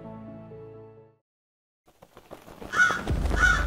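Two loud, harsh crow caws ring out close by after a short silence, following faint music at the start.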